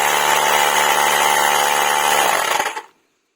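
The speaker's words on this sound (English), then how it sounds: "the button for starting the compressor" An Ultimate Speed USKT 60 B2 portable cordless air compressor runs with a loud, steady buzzing whine up close, then winds down and cuts off into silence.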